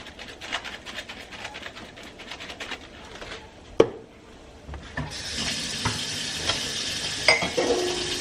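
A taco-seasoned mixture is stirred in a pan with scraping utensil strokes and a sharp knock midway, then a steadier, louder sizzle-and-hiss wash settles in near the close.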